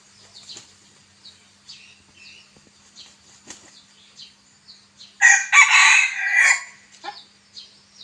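A bantam rooster lets out one loud, close crow lasting just over a second, preceded and followed by scattered soft rustles and light wing flaps.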